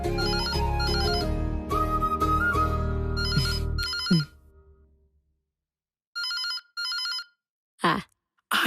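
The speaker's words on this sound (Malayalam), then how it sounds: "ഫോൺ അടിക്കണ കേൾക്കണില്ലേ?" A telephone in a home gives two short bursts of bright electronic ringing, clear and close, after a stretch of background music fades to silence. No one speaks over it.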